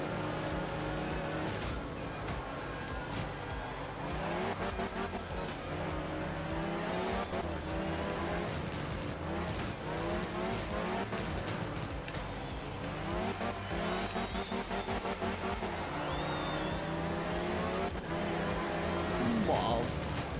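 Rally car engines in Art of Rally rev and shift continuously through a long Japanese stage, with rising and falling pitch sweeps and bursts of acceleration, while a voice talks over the game sound.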